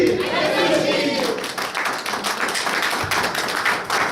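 A church congregation at a praise and worship service claps in a quick, rhythmic patter, close and fairly loud, with a voice speaking over the first part.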